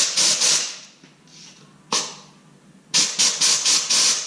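Compressed air blasts from a nozzle onto engine parts of a 2014 Ford F550 V10 in a shop, coming as a quick burst of loud hissing pulses, a single short blast, then another rapid run of hissing puffs.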